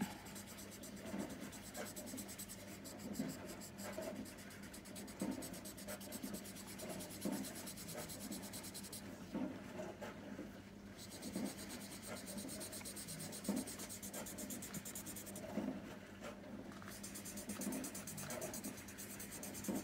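Soft, steady circular rubbing of a pencil drawing blended with mineral spirits, a close, quiet scratchy swish repeating in slow rhythmic strokes throughout, with no voices.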